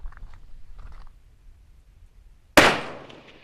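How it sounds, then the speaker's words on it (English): A single sharp rifle shot from a Ruger American chambered in 6.5 Creedmoor cracks out loud and close after a few quiet seconds of faint rustling, its echo trailing off briefly. "Last shot."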